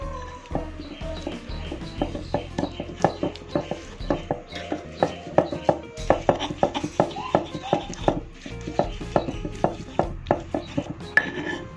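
A stone mortar pounds and grinds palm sugar and shrimp paste into sambal, with steady rhythmic thuds and scraping strokes repeating close up for several seconds, loud and regular, with no voices.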